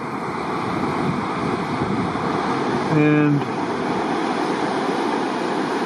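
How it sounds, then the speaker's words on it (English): The Cline River rushes by outdoors as a broad, steady roar of flowing water heard up close, with wind against the microphone and one short spoken word in the middle. "here's the Cline River"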